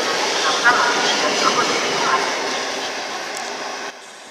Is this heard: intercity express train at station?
yes